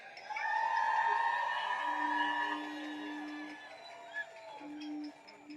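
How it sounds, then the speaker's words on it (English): Crowd at an outdoor rally cheering and whooping loudly, a dense roar of voices with some tonal shouts, tapering off after a few seconds. "why don't y'all celebrate yourself with a great big round of applause?"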